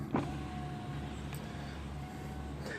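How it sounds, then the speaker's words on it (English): Tesla Model 3 power window rolling down: a quiet, even electric motor whir running steadily after a small click at the start, heard faintly inside the car with no talking. "I'm going to roll down this window."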